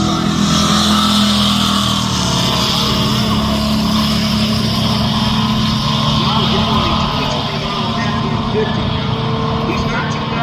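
Cars race side by side down a drag strip at a summer drag-and-drive event, a continuous loud roar of engines under accelerating strain with a faint commentator's voice beneath.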